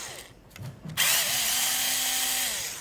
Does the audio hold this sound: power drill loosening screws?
yes